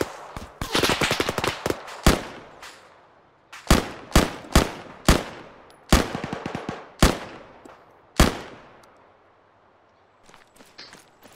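A rocket run in the video game Arma 3 produces a string of sharp, loud blasts and short rattling bursts at irregular intervals, each decaying quickly, thinning out toward the end.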